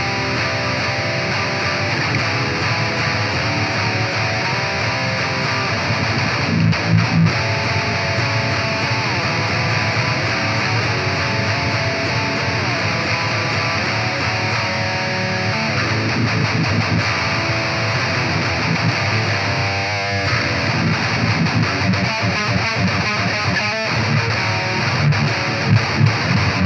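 A GOC Illumina MTLX 7-string headless electric guitar plays a dense heavy rhythm part on its bridge pickup, with a thick, saturated, high-gain tone that runs steadily and loudly without voices.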